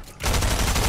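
SMG fire from a zombie shooter video game bursts in after a brief pause, a loud, rapid, continuous stream of shots that fills the rest of the moment.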